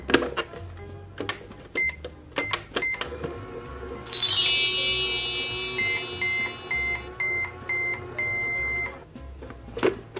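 A toy microwave gives a run of short electronic beeps and bleeps, then a bright sustained chiming tone, followed by more repeated beeps, loud and close with no talking.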